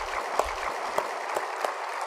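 Church congregation clapping together during a Korean Sunday service, steady rhythmic applause with sharp accented claps recurring roughly every third of a second, moderately loud in a reverberant hall.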